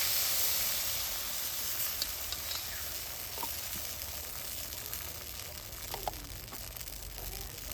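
Rice batter for chitoi pitha sizzles in a hot wok, a soft, steady hissing with faint crackles and small pops, fairly quiet and without talk.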